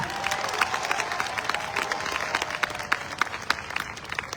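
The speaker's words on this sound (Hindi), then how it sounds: "मैं चाहता हूं एक बार अब तक की सबसे जोरदार ताली अपने लिए बजाइए." A large audience at a motivational speech claps loudly and energetically, a thick continuous burst of applause mixed with some cheering and crowd noise, close and sustained across the whole stretch.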